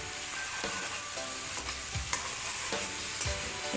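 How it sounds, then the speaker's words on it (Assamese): Boiled potatoes frying in a spice paste in a pan for an egg curry, with a continuous close sizzle broken by repeated scraping stir strokes, no talk. "পেষ্টখিনিৰ লগত মই যিখিনি আলু বইল কৰি লৈছিলোঁ সেই আলুখিনি ইয়াতে দি দিম আৰু প্ৰায় 2-3 মিনিট সময় ভালদৰে ভাজি লওঁ"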